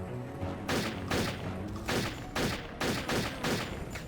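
Repeated gunfire bursts in the video game Turok 3: Shadow of Oblivion as snipers are shot at, roughly seven loud close shots in a steady rhythm over dense game ambience.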